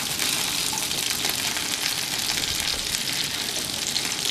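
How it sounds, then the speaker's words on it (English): Garlic-forward food sizzles and crackles loudly in a hot pan, a dense, continuous frying hiss with no one speaking. "That crackle and sizzle probably sounds good."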